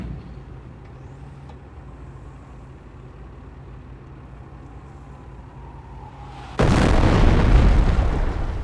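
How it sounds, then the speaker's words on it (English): Incendiary mortar barrage fired by a half-track in Company of Heroes: a low, steady battlefield hum, then one sudden loud blast that rolls on as a heavy roar to the end. "the mortar half-track to fire an incendiary barrage at the enemy infantry squad"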